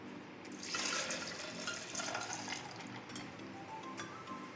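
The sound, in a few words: milk being poured for an Oreo milkshake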